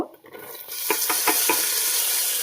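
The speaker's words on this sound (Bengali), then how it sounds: "একটু ভালো করে নাড়িয়ে চাড়িয়ে ভেজে নেব মুগ ডালটা, ব্রাউন করে নেব একটু।" Moong dal and potato frying in a pan while being stirred, a steady sizzle with several distinct scraping strokes of the spoon, close and fairly loud, no talking.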